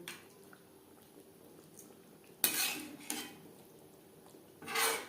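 A utensil scrapes and clanks against a pan as fried katla fish pieces and fish heads are stirred into a thin gravy with potatoes. The soft stirring rises into two louder bursts of metallic scraping with wet squishing.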